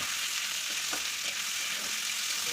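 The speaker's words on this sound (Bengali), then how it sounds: "পেঁয়াজটাকেও হালকা ব্রাউন হওয়া অবধি ভেজে নেব।" Onions sizzle in hot mustard oil in a wok with whole garam masala and bay leaf, a steady close crackling hiss with a few faint stirring knocks and no voices.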